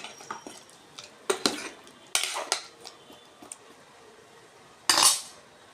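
A spoon stirs mutton and eggplant curry in a metal pot, giving scattered scraping clinks against the pot in irregular bursts, close and moderately loud, with one stronger scrape near the end.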